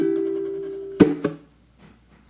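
Funk riff on a baritone ukulele: a sustained plucked chord ringing, then two sharp percussive slaps in quick succession, followed by faint quieter plucks, close and alone.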